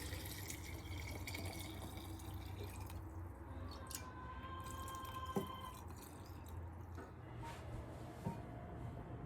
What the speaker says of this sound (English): So I'm gonna get these peppers covered in the brine.